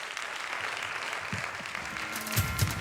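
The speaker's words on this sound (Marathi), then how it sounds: "एकदा जोरदार टाळ्या" Faint, steady applause from an audience at a felicitation ceremony, heard at a distance and low in level for a few seconds with no talking.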